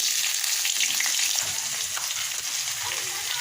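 Chopped onions hit hot oil seasoned with panch phoron, and a continuous dense sizzle and crackle follows, close and even throughout with no voices.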